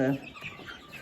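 Broiler chickens (Ross 708) cluck close by in a short burst, a loud call at the start and softer clucking after.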